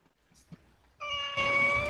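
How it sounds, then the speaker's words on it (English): A cat meows once for the Viper Demon in a Roll20 tabletop game, a sustained bright tonal cry that swells and holds after a brief quiet lead-in. "That meowing is the sound of the Viper Demon"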